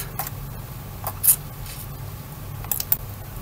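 A handful of sharp, close computer mouse clicks, scattered singly and in a quick pair, over a faint low hum in a quiet room.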